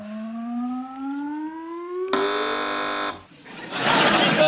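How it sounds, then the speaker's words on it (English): An electronic quiz show buzzer on a British panel comedy show gives a loud, sustained harsh tone lasting about a second, preceded by a rising synthetic whistle and followed by a burst of noise. "Fingers on buzzers, teams."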